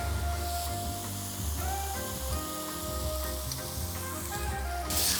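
Noodles and sauce sizzle steadily in a frying pan, a constant close frying hiss with faint stirring clatter underneath and no talking.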